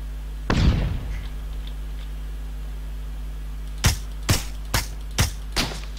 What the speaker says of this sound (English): I mean, stun grenade.